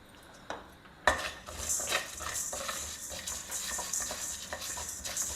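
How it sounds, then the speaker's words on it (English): Coriander seeds, urad dal and chana dal dry roasting in a pan, heard as close, irregular scraping and clinking of a spoon against the pan with light rattling of seeds, faint overall and without talking. "first we'll dry roast all these ingredients till they lightly change color"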